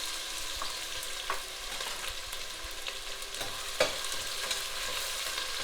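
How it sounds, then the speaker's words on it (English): Onion fries in hot oil for pork vindaloo with a steady, bright sizzle, and a few soft spatula scrapes and taps from stirring break through it. "Now the oil is hot, so we're going to put the onion in there."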